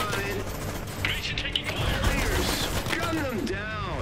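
Gunfire and mechanical clatter from the Iron Harvest video game, dense overlapping shots and rattling effects at moderate loudness with a voice talking over them.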